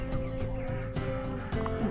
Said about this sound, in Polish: to jest kogut Kochi